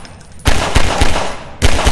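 Pistol fire in the Half-Life 2 VR game: a few sharp, loud close shots in quick succession, each with a brief ringing tail, with no speech.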